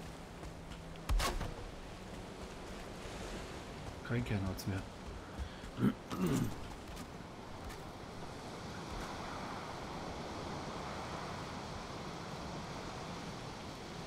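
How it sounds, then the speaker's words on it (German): High ocean waves in Valheim wash in a steady, broad surf roar that swells toward the end, with a German speaker talking over it and a few sharp game effects early on. "Weil die Wellen so hoch sind,"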